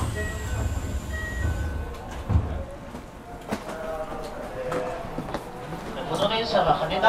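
A Keisei 3050 series Access Express train runs from Narita Airport toward Haneda Airport, with a low rumble and motor tones that change pitch, mixed with clatter and other cabin sounds.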